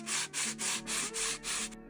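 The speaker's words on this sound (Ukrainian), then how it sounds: "Починаю з шліфувальної шкурки 80-го зерна і поступово зменшую зернистість." Wood putty on a frame being sanded by hand with 80-grit sandpaper: six steady back-and-forth rasping strokes in an even rhythm, close and fairly loud, with no talk.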